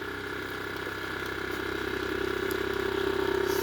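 3D printed brushless DC motor spinning up below 2,000 RPM, a steady whirring hum with a rising tone and slowly growing loudness, close and alone.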